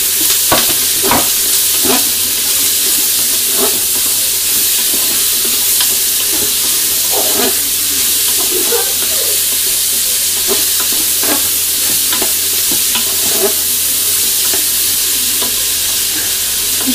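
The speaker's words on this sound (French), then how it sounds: "Je vais laisser légèrement faire cuire un petit peu, légèrement doré une minute, juste pour attendrir un petit peu les poivrons." Onion, chorizo and peppers sizzle loudly in a hot pan, a steady close frying hiss broken by repeated scrapes and taps of a utensil stirring the mixture, continuing for about seventeen seconds.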